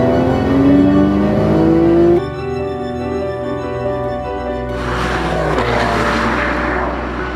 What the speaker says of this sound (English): That car is the 2012 Porsche 911.